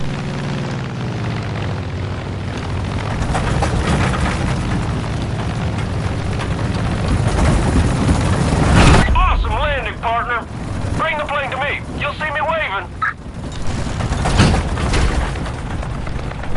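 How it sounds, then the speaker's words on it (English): A plane lands on a runway in the video game Far Cry 5: a loud, continuous engine drone that rumbles and peaks, then thins out. Voices talk over the second half. "Now get the runway in front of you while steadily lowering your altitude."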